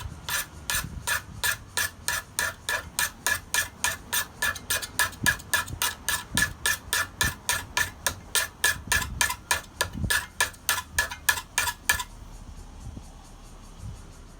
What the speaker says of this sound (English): to test this vise some more, I'm just using this file in the finishing sort of way